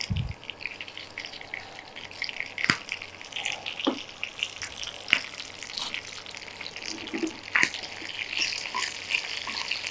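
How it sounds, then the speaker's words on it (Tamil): Mustard seeds, curry leaves and dried chilies sauté in a pan over a low flame, giving a continuous crackling sizzle with sharp pops and scattered stirring taps, no talking. "இதை ஒரு கரெக்டாக 1 நிமிஷம் லைட்டாக அப்படியே வதக்கிட்டு"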